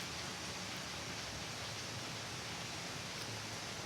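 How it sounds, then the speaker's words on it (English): Steady, dense rushing water of a waterfall roars without pause, a broad hiss of falling water filling the whole clip with no voices. "I'm going to point the camera towards a waterfall."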